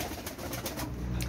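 Pigeons of fancy breeds such as teddy and white commando, kept in a loft, coo softly in a brief low murmur over steady background noise.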